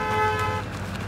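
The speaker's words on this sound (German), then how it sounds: "Was hupen die denn?" Car horns honk briefly in the Straßenmeisterei Simulator road maintenance game near a construction site with traffic lights. A short, moderately loud toot rises over low traffic rumble.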